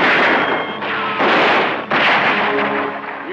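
Gunshots fired in a 1956 film: a loud, close volley of several blasts in quick succession, each a broad crack with rumbling decay, filling the whole moment.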